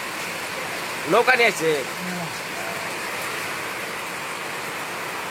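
Rain falls over a village, a constant soft hiss of drops that runs the whole time, with a short burst of a voice near the start.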